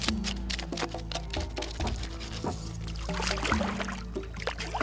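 Water pours and splashes over a carp as its loosened scales are washed off, a steady close trickling wash.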